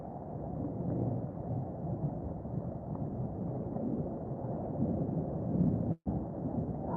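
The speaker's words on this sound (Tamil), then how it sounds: "மழை பெய்யுது" Steady, dense rain roars at the Vijayalaya Choleeswaram stone temple on Narthamalai, a continuous muffled wash with low rumbling undertones and no voices, cut by one brief dropout near the end.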